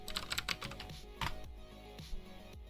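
Typing on a mechanical keyboard fitted with non-clicky brown switches: close, muffled keystrokes in a fast, dense burst, then sparser single presses, with no talking.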